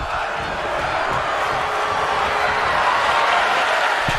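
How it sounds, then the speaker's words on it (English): Capacity arena crowd in WWE 2K22 chanting during a wrestling match, a steady dense roar of voices filling the hall at a loud, even level throughout. "This capacity crowd chanting "Fight Forever.""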